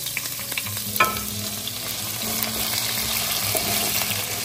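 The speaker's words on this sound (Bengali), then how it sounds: "এই তেলের মধ্যে আলুটা একদম মশলার সঙ্গে ভেজে নিচ্ছি।" Potatoes frying in oil with spices give off a continuous close sizzle, with a sharp clink of a utensil early on and soft stirring scrapes throughout, no voices.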